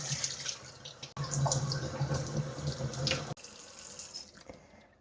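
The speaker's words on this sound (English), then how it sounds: "You want to drain all the water as much as possible, just like that." Rinse water drains from a container of broccoli sprout seeds into a sink, a steady pouring and splashing stream that halts briefly twice and trails off into drips, close and moderately loud with no talking.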